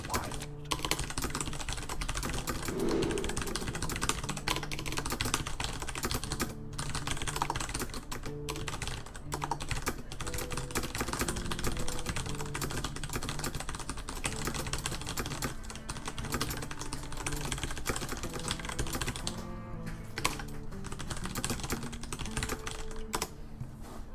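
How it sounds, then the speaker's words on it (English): Rapid, continuous typing on a computer keyboard, loud and close, with fast clattering keystrokes running almost unbroken for over twenty seconds and only brief pauses. "I'm gonna go ahead and type something to my wonderful people at work"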